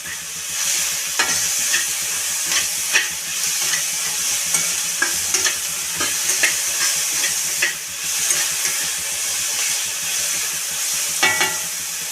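Onion and green chili paste fries in oil while being stirred, a steady sizzle and hiss with frequent light scrapes and clicks of the spatula against the pan, no talk.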